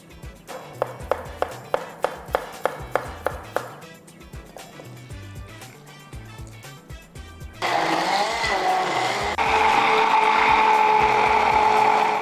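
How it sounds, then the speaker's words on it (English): A series of sharp taps gives way to a loud, steady mechanical whir of a blender running continuously, its pitch rising as it spins up. "now we have to blend some ingredients."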